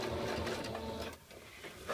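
A sewing machine runs a continuous stitch through cloth diaper fabric while fresh elastic is sewn in, a dense close whirr that eases briefly and then picks back up.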